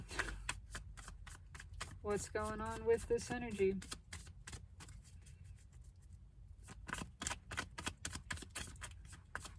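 Rapid crisp riffling of playing cards being shuffled repeatedly, with a brief spoken question partway through.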